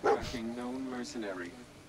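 A dog in the Fallout 4 video game gives a close whining, yelping bark that blends with game audio.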